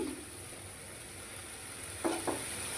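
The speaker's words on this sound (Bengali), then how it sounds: "ভালো করে নেড়ে চেড়ে নেব।" Squash ghonto is stirred in a pan, giving a faint, soft sizzle with two brief scraping strokes near the end, all quiet and without voices.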